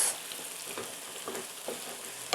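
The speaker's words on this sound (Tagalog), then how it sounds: "So, lutuin lang natin mabuti yung kamatis." Tomatoes frying in a pan for a vegan binagoongan with eggplant, giving a steady soft sizzle with a few brief stirring clicks and scrapes near the end, with no talking.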